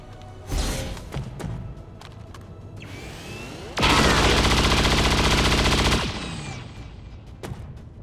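Chain Shot gunfire from XCOM 2 cracks out as an opening shot, then a sustained, loud burst of rapid automatic fire lasting about two seconds, followed by decaying echoes and scattered game effects.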